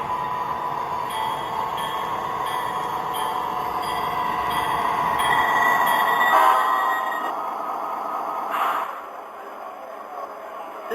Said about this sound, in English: Train number 1, the Canadian.